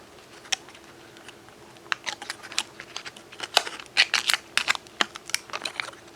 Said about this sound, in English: maybe if I tear up the tin